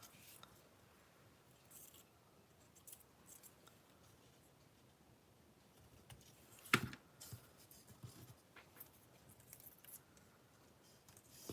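Scissors cutting small angled pieces of paper for a stamped cherry card, heard as a single crisp snip partway through an otherwise quiet, faintly hissing room.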